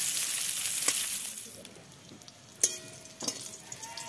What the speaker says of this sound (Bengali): এবার উচ্ছেটাকে লাল লাল করে ভেজে নেব।